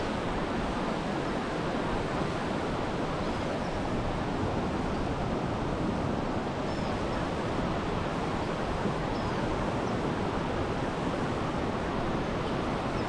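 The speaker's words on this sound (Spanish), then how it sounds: "Mire cómo está este río Chicamocha." The Chicamocha river rushes beneath a bridge near Los Santos and Jordán, Colombia; a constant, loud roar of churning water fills the whole stretch, steady and unbroken, with some wind buffeting mixed in.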